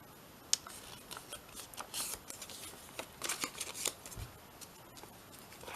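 Scissors snipping through paper while a vintage shabby-style journal is assembled, a series of short, light cuts in an uneven rhythm, close and fairly quiet.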